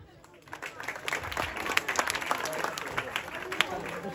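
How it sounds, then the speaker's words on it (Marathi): An audience claps at an open-air Chhatrapati Shivaji Maharaj Jayanti celebration. The applause is a fairly faint, steady patter from many hands, lasting a few seconds. "जोरदार टाळ्या वाजवा."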